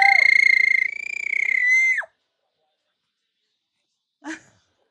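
A young child lets out a long, high, wavering shriek that rises and falls for about two seconds, then stops abruptly; after a pause comes one short, breathy squeal.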